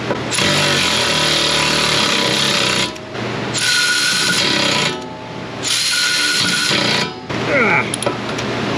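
A power tool, apparently an impact-type driver, works on a rusty wheel hub bolt on a 2017 Ford Fusion in three loud bursts of a few seconds each, with the motor cutting off between them.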